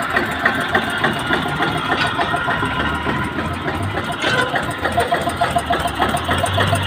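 A tractor engine idles steadily at a tractor market, a continuous low mechanical rumble with regular firing beats throughout, close and fairly loud, with no talk over it.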